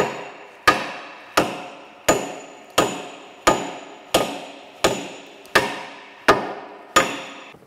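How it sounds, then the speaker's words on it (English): A lead hammer drives a gear off a shaft on a FAMCO 5C arbor press under restoration, striking eleven sharp, evenly spaced metallic blows, close and loud, each ringing out briefly before the next. "it's just gonna have to be driven out. So I've got a lead hammer here."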